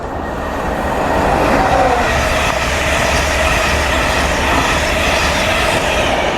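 An LNER InterCity 225 set rushes through Doncaster station on the East Coast Main Line, London King's Cross to York service, a loud sustained roar of wheels and rail noise with faint squeal, steady throughout.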